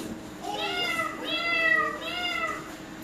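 A person imitates a cat, meowing three times in a playful, sing-song voice.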